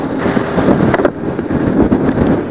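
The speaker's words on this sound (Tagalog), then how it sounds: "Wow, lakas ng hangin." Strong typhoon wind from Typhoon Kristine roars steadily across the microphone with heavy buffeting and gusty low rumble, loud and continuous throughout, no voices.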